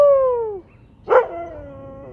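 A dog howls in a long drawn-out wail, pauses, gives one sharp bark, then howls again, close and loud with no talk over it.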